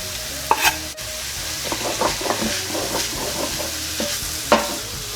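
Onions and garlic sizzle and fry in a pan for shepherd's pie, a steady close crackle with stirring scrapes and a few sharper clinks of the utensil against the pan.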